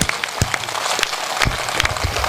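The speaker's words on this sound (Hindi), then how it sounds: "एक बार घनघोर तालियां" Loud, thunderous applause from a kavi sammelan poetry-gathering audience, a dense wash of many hands clapping up close with no talk over it.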